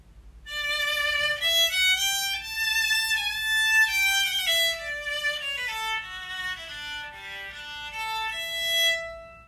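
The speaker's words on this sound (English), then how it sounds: "If it is unplugged, the electric violin has a very thin and quiet sound." An electric violin played unplugged with no amp, sounding thin and fairly quiet as a melodic line moves through sustained and stepping notes, alone with a faint low background hum.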